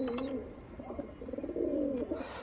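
Racing pigeons coo close by in a series of low, rolling calls, with a few faint chirps and no voices.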